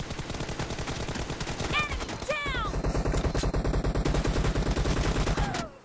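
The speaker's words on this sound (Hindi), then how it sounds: "साला एक ऊपर चढ़ के फायरिंग कर रहे हैं" Rapid automatic gunfire rattles steadily through a PUBG Mobile match, dense bursts running nearly the whole time, with a few whizzing ricochet-like sweeps and no voices.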